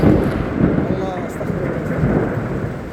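Steady rain falls in Abha city, Saudi Arabia, with a loud rolling rumble of thunder building at the start and continuing under the downpour, while people talk faintly nearby.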